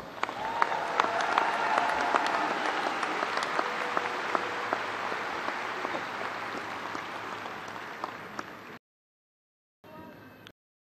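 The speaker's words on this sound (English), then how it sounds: "And please honor these graduates with a round of applause." Commencement crowd at Angelo State University applauding graduates, a dense sustained roar of clapping in a large hall that cuts off abruptly, followed by a short faint burst.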